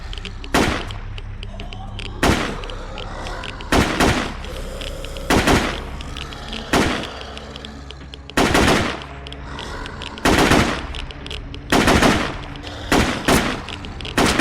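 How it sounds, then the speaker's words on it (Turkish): Repeated loud gunshots fire at a zombie in the video game Surroundead, in sharp single bursts and short clusters spaced a second or two apart, close and dominant. "Eğer o aralıklarla kafasına sıkabilirsem çok fazla mermi harcamadan bu işi bitirebilirdim"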